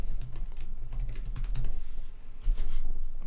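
Quick bursts of keystrokes on a computer keyboard while writing Java code for a 2D game, close and crisp clicking in uneven runs with a brief pause before resuming.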